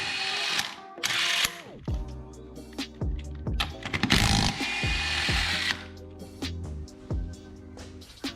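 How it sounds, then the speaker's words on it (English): A ratchet clicks in quick bursts as car wheels are removed, sharp pawl rattles broken by short pauses and metallic clanks, close and fairly loud with no voices. "we'll rip these wheels off, and then we can slide the axles out and put this center in."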